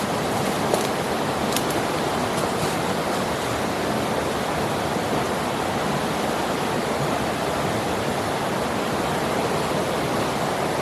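Steady, broadband roar of a waterfall in the bush of Barrington Tops, NSW, continuous and unbroken for the whole stretch, with no voices over it.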